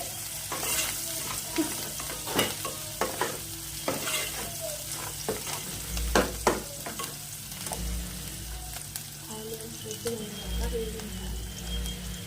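Onions fry with salt in a pan for curry, giving a steady soft sizzle. Intermittent spoon scrapes and taps break in as they are stirred, close, with no clear speech.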